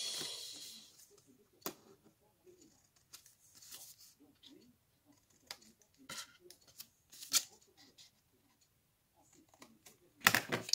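Paper being bevel-cut along an edge for a craft pouch, heard as sparse, quiet snips and scraping rustles with irregular gaps and a louder burst of handling near the end.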